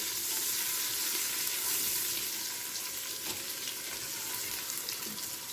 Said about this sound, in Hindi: इसको ब्राउन होने देंगे, प्याज को भी और लहसुन अदरक को भी।